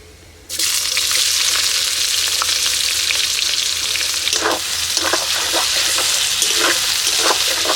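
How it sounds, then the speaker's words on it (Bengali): Chopped onion and slit green chilies hit hot mustard oil spiced with whole garam masala and cumin, and a loud sizzle bursts up at once, holding steady with spoon-stirring scrapes and clatter near the end. "এবার দিয়ে দিচ্ছি কুচিয়ে নেওয়া পেঁয়াজ আর চিড়ে রাখা কাঁচা লঙ্কা"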